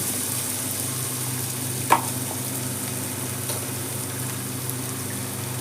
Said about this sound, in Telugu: గోల్డ్ కలర్ ఫ్రై అయిపోయింది అక్కడ, చూస్తున్నారు కదా